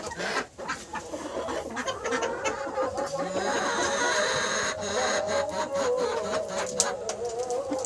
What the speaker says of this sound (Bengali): দেশি মুরগি। সব মুরগি দিয়ে দিচ্ছে।